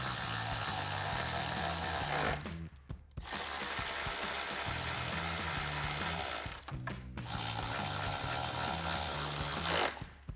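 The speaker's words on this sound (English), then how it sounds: "take our 10mm socket with our ratchet and tighten them down" A ratchet with a 10mm socket tightens headlight bolts, rapid clicking bursts of a few seconds each separated by two short pauses, close and loud.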